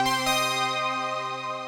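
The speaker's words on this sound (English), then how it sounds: "Let's listen to the JX8P sound." A sustained synthesizer chord from a Roland JX-8P, rich and steady with a soft attack, holding evenly without fading.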